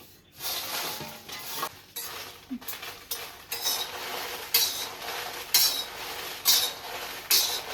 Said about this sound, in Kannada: ಇದು ಬಾಣಲೆ ಬಿಸಿ ಆಗಿದೆ, ಹಾಕ್ತಾ ಇದ್ದೀನಿ. ಇವಾಗ ಚೆನ್ನಾಗಿ ಹುರಿಯಬೇಕು. ಆಯಿಲ್ ಹಾಕಿಲ್ಲ, ಕ್ರಿಸ್ಪಿಯಾಗಿ ಬರಬೇಕು.